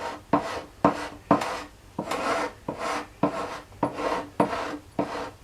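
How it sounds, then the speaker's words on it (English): A draw knife is used as a scraper on yew sapwood, giving a run of about eleven rhythmic rasping strokes, each with a sharp onset and a brief gap, close and fairly loud with no voices. "The other thing you can do with the draw knife is use it like a scraper on sapwood"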